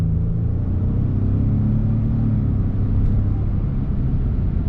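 A 2021 Ford F-150 XLT Hybrid pickup accelerates with a steady, loud low engine and road rumble heard from inside the cab, continuous with no talking.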